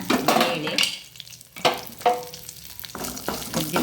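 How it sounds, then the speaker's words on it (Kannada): Urad dal with red chilli frying in a pan while being stirred, close scraping strokes of a spoon over a soft sizzle, coming in several bursts separated by short quieter gaps. "ಅದನ್ನು ಹಾಕ್ಕೊಂಡು ಸ್ವಲ್ಪ ಹೀಗೆ ತಿರುಗಿಸ್ಕೊಳ್ಳೋಣ"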